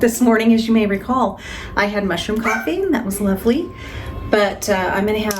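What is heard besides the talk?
None of the usual background noises is heard.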